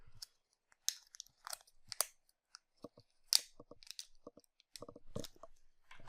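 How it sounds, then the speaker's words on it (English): Scissors snip and crunch through the foil wrapping of a Pokémon card pack. There are a series of close, quiet, crisp cuts separated by silence. "But luckily, I have some scissors,"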